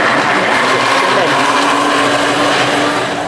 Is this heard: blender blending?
yes